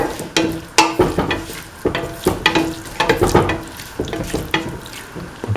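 Chicken meatball mixture with garam masala being mixed by hand or spoon in a bowl, irregular close squelching, tapping and scraping strokes in uneven bursts, without speech.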